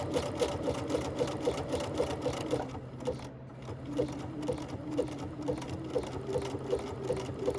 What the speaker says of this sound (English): This time it's sewing right over that straight stitch.